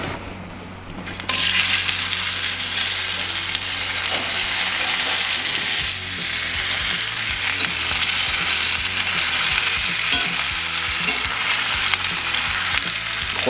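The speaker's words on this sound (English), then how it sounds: "Now let's drop on our steaks." Steaks dropped into a hot oiled pan, a quiet start giving way to a sudden loud, sustained sizzle that keeps going steadily with faint crackles, no speech.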